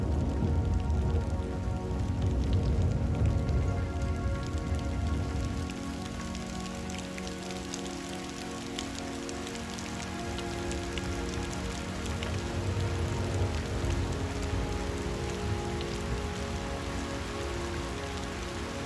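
Steady rain patters on a surface in the game Becalm, a dense, even hiss of drops that thins slightly midway, then fills back in; no voices.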